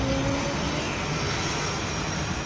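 A stealth fighter jet roars in a steady, loud, unbroken engine drone that fills the whole moment, with no voices over it.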